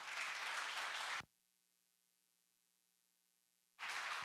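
An audience applauds a lecturer being welcomed onto the stage at a forum talk on the post-COVID world, a loud burst of clapping that stops abruptly into near silence and then resumes.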